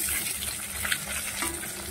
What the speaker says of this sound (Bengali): মাছের তেল, লঙ্কা পেঁয়াজ দিয়ে ভাজা করছি